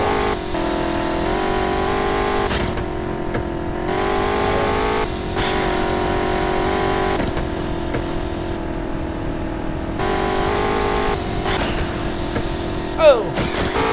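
A car with poor brakes revs while driving, a steady close engine drone that rises and falls, dipping briefly at gear changes before climbing again, continuous throughout.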